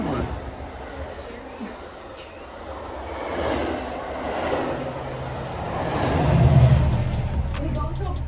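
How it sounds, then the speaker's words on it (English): A Metra-line train passes near abandoned rail cars, a low rumble that builds and swells toward the end, with people talking over it. "we got another train coming."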